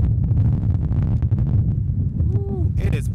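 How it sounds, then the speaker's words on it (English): Strong wind gusts buffet the microphone outdoors during a walking tour in Fayetteville, Georgia, a constant low roar with rumbling bursts and no speech. "it is very windy"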